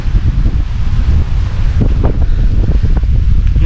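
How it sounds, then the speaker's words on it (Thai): Sea breeze blowing at a beach in Sriracha, a loud, continuous rumbling wind buffeting the microphone, with gusty surges and a faint hint of surf underneath; no one speaks. "นี่คือลมทะเลครับกำลังพัดโบกโบย"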